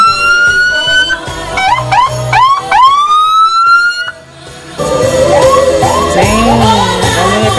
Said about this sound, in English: The ambulance is trying to get through.